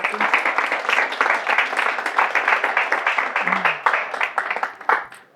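Audience applause at a business forum in Marbella, a steady patter of many hands clapping for several seconds with a faint voice briefly underneath, tapering near the end.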